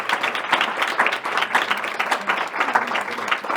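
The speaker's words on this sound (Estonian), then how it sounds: "Teeme suure aplausi, teeme kõigile panelistidele suure aplausi." Audience applause for the panelists at a children's protection union annual conference panel discussion, a dense, steady round of clapping from a seated crowd filling the room with no voices on top.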